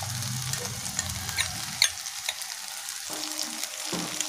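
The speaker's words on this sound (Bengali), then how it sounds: "টমেটোটা একটু নরম হওয়া অবধি আমরা এটা ভাজবো" Tomatoes fry in a pan for butter paneer masala, giving a crackling sizzle with scraping stirs that thins out into quieter spitting and pops, with no voices.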